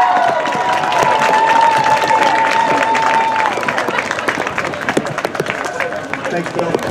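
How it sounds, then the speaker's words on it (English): Crowd applause fills an outdoor high school football stadium before a game, a broad steady wash of clapping and cheering that thins toward the end, with a brief whistle-like tone near the start. "join us in thanking Mr. Rickard for a great career at TK with a round of applause"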